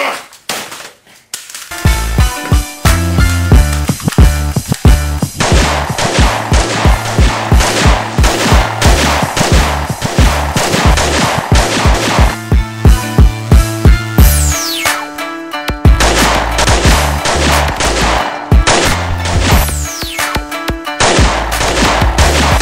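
Sustained gunfire goes on almost without pause, loud and close, with rapid rhythmic shots over a thumping backdrop and only a brief break partway through.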